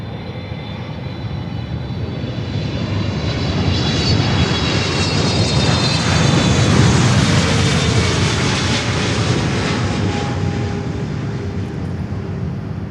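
Cargo aircraft landing on runway 9 at Miami Airport, a loud continuous engine roar that swells to a peak midway as it passes close and then eases off, with no voices.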